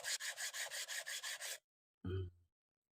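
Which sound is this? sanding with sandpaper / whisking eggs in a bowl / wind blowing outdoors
sanding with sandpaper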